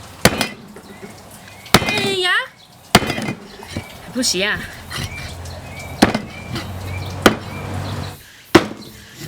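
A heavy kitchen knife chops through pig trotters on a wooden board, producing sharp, separate whacks spaced a second or two apart. A voice talks between the blows.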